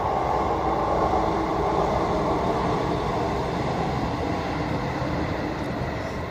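A train rolls past up close, a loud, steady rumble and rattle of rail cars that holds at the same level for the whole stretch with no talking.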